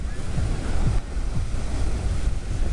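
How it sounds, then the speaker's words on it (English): Strong wind buffets the microphone over rough surf on Lake Huron under dark storm clouds, a continuous loud roar with low gusty rumble and breaking waves, no voices. "really windy down here."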